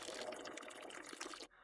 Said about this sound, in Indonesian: Lihat, ada pancuran tuh.